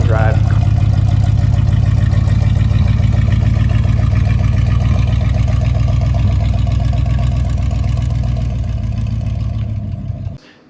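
A 1957 Pontiac Chieftain hardtop, run after sitting for a couple of years, holds a steady, loud rumbling idle close by for about ten seconds before cutting off at the end.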